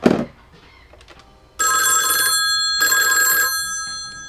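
A Nortel intercom extension phone rings with two loud electronic trill bursts, each about a second long with a short gap between, after a brief thump and a quiet stretch.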